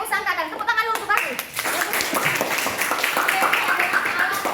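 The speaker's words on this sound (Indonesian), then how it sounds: "Tepuk tangan dulu untuk aku." After a voice, a group of children in a classroom breaks into brisk, scattered clapping that continues steadily, with some voices mixed in.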